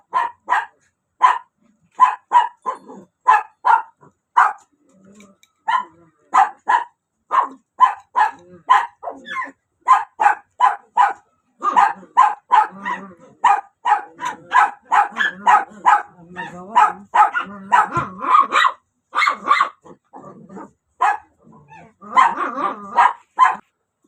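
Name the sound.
dogs barking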